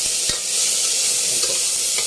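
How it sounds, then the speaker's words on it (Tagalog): Tomatoes sizzle in a pan for sinigang of tawilis fish, a loud steady frying hiss with a couple of faint utensil scrapes, close and continuous with no speech. "Lutuin natin yung kamatis. Ibigisa din natin."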